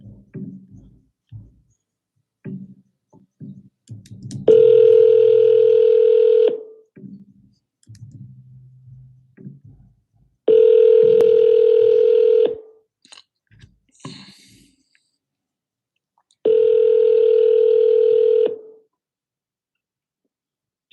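Phone line tones while calling for-sale-by-owner listings: three long steady tones, each about two seconds, separated by gaps holding faint clicks and murmurs.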